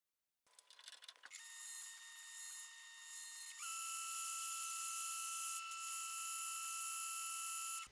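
Metal lathe taking a skim pass and cutting chamfers on the collar of a dividing head spindle, a steady close high-pitched tonal whine with a short rattle at the start, stepping up in pitch midway and running on alone.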